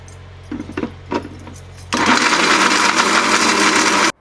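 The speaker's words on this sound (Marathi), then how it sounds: "छान याच्यामध्ये गूळ मिक्स करून घेतलं, मिक्सरमध्ये फिरवून घेतलं" Mixer grinder whirring loudly as it grinds jaggery into a sweet filling, starting after a few soft clicks and bumps and running steady and close for about two seconds before cutting off.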